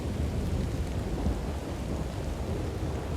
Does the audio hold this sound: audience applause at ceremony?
no